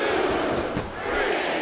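Capacity crowd cheering and chanting in a wrestling video game arena, a loud, dense roar that dips briefly midway and then surges back up, continuous and close.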